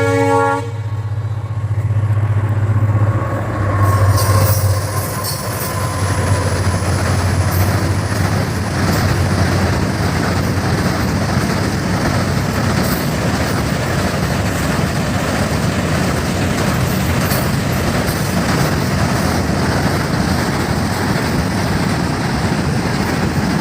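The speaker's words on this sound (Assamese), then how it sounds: "ট্ৰেইনো আহি আছে।" A train rumbles past at close range, opening with a loud sustained horn blast before giving way to a steady, heavy roar of wheels and wagons rolling by continuously.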